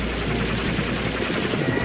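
Dense, loud, continuous gunfire with rapid machine-gun bursts and overlapping shots, as in a strafing attack on an airfield during the Pearl Harbor raid.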